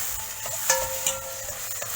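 Crushed garlic and softened vegetables stirred in a frying pan for Mumbai street-style pav bhaji; a brief few seconds of faint sizzle with a couple of light spatula scrapes.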